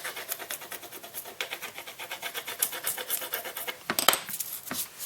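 A gilded wooden clock dial is rubbed down with an implement, giving a continuous close, quiet rasping scrape in quick repeated strokes.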